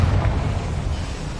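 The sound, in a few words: Confringo blasting spell explosion in the video game Hogwarts Legacy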